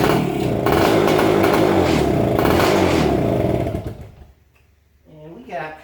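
A Yamaha enduro motorcycle with a sticking kickstart and spark trouble turns over and sputters loudly for several seconds, rattling and clattering close by, then dies away into near silence before a voice speaks.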